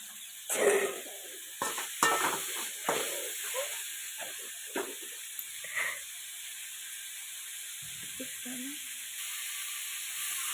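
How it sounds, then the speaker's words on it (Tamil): Onions and tomatoes sauté in a pan for egg curry, giving a faint, steady sizzle with occasional stirring scrapes and clicks, recorded quietly in a home kitchen. "நல்லா வதங்கி வரட்டும்."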